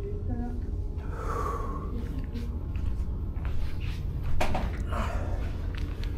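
A man who is out of breath breathes heavily inside an old railway house, with audible gasps and snorting breaths close up over a few seconds, and a sharper burst of breath near the end.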